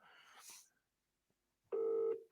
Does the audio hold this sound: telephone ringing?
yes